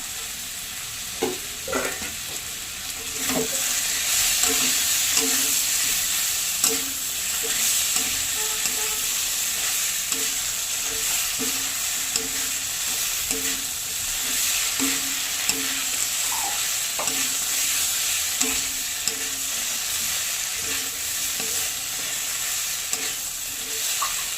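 Mustard paste and green chilies fry with watermelon rind in a pan, a continuous sizzle broken by repeated scraping stirs of a spoon, close and steady throughout.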